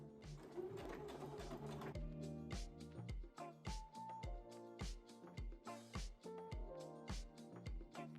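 A sewing machine stitches a shirt made from a tablecloth, running in loud, even rhythmic bursts of needle strokes close by, after a brief busier stretch at the start.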